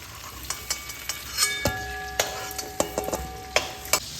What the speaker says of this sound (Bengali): কপিগুলো হালকা করে ভেজে নিলাম